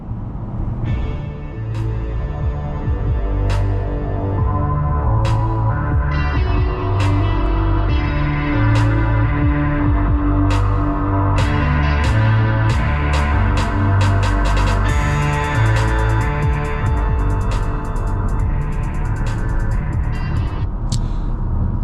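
Music plays through the JBL audio system inside a 2026 Toyota C-HR, a steady beat with bass and sharp percussive hits heard from within the cabin, with no talk.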